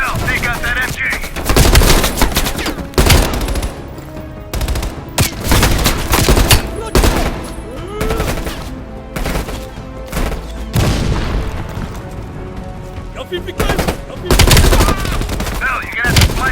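Machine gun fire in the Call of Duty: Black Ops Cold War video game: loud, close bursts of automatic gunfire with heavy booms and rapid crackling shots, repeating in clusters throughout amid battle noise and a few shouted voices.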